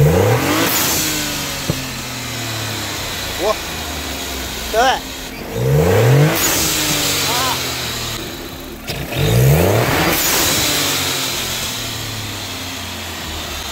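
A tuned VW Up TSI engine revs repeatedly, loud and close, with rising and falling blips, short pauses at idle between bursts, and brief exclamations from people nearby.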